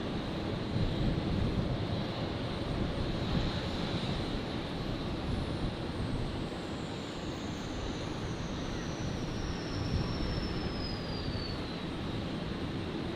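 A jet airliner roars steadily at Brisbane International Airport, a broad continuous rumble with a high engine whine that slowly falls in pitch as the aircraft passes.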